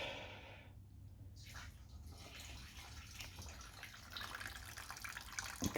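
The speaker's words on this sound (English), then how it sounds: "draining more fuel out of it" Fuel trickles and drips steadily from a Honda GX110 3.5 engine with the carburetor removed, a faint, continuous liquid patter with small splashes, no talking.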